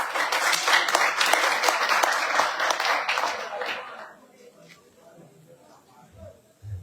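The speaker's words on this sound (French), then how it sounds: "Ça va être un applaudissement, hein?" Audience applause at a vocational school ceremony, a dense burst of clapping that fades out around four seconds, leaving a quiet room with faint scattered noises.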